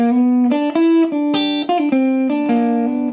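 Guitar lick played slowly, a steady sequence of distinct picked notes of moderate loudness, each held and ringing clearly with a slightly overdriven tone, with no voices.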